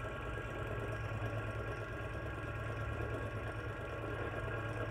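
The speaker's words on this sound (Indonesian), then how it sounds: "motor DC dijalankan pada kecepatan 500 rpm" A DC motor runs steadily at about 500 rpm on a 50-volt supply in a test rig driving a generator, giving a constant, even mechanical hum and whir with no change in pitch or level.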